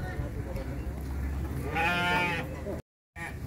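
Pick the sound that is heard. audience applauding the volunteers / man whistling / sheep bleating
sheep bleating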